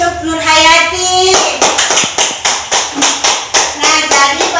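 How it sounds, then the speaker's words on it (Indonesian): Primary-school classroom clapping for a student, starting under children's voices, then a rhythmic, fairly close run of about a dozen evenly spaced group claps in a chant-like pattern, with voices returning near the end. "beri tepuk tangan untuk Nur Hayati"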